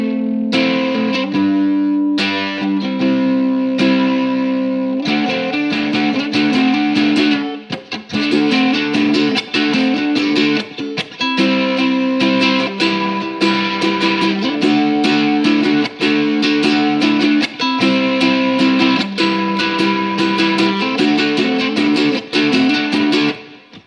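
A ukulele played through an overdrive distortion effect, its crackling, saturated strummed chords ringing loud and continuous with sustained clipped notes and no voices.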